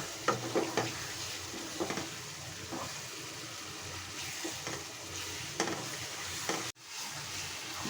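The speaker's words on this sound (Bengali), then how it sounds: "মশলাটা আমার কষিয়ে এসেছে" Masala spices stir-fried in a pan for a chicken roast, a continuous soft sizzle with repeated scraping strokes of the spatula, close and steady, with no talking.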